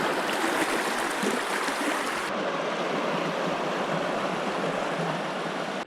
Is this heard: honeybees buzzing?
no